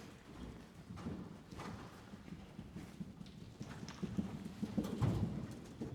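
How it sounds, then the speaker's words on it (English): Horse hooves canter along the long side of an arena, a steady three-beat clip-clop that rises slightly in loudness as the horse nears, with no talk over it. "That's a great canter there"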